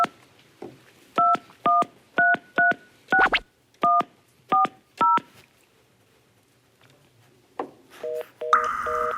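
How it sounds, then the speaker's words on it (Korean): A red desk telephone being dialed, a quick series of clear near dual-tone beeps in a steady rhythm, followed after a pause by ringing or signal tones on the line. "제가 빨간 전화로 연결을 해볼게요."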